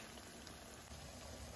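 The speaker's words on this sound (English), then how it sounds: "the plantains, or the plátano macho, we are frying in oil" Plantains (plátano macho) frying in hot oil, a quiet, steady crackling sizzle with no talk over it.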